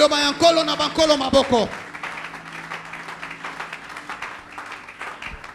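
Church congregation applauding during a French-language worship service, a burst of clapping that fades after about two seconds into quieter room noise.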